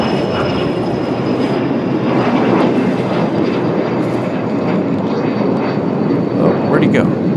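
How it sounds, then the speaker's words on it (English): A Boeing 767 airliner taxiing out from a hangar, its engines giving a steady, loud broadband roar that holds throughout without breaks. "So this 767 coming from the hangar a moment ago."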